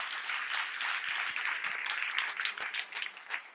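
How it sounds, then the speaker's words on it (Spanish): A conference audience gives a short round of applause for a speaker who could not attend. Dense, even clapping is heard from moderately far off for several seconds, with scattered sharper claps poking through. No one speaks over it. "Así que un aplauso también para ella"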